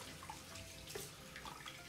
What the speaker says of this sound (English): warm this water back up